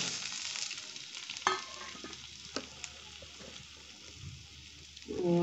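Potato pieces hit hot cooking oil in a pan and fry with a steady broadband sizzle, close up, with a few sharp clinks of a utensil and no voices.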